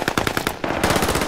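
Rapid automatic gunfire in Call of Duty: Modern Warfare Warzone, a loud continuous burst of closely spaced shots with a brief dip midway before the firing resumes.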